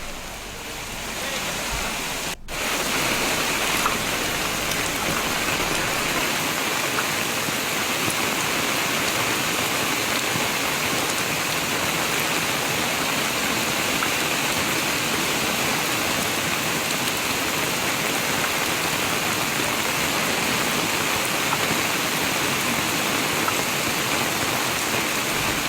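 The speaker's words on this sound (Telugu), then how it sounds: "శ్రీనగర్ కాలనీలో వానలు దంచుకొడుతున్నాయి." Heavy rain pouring down in Srinagar Colony, Hyderabad. A dense, even hiss of falling water holds steady throughout, loud and continuous, with no voices.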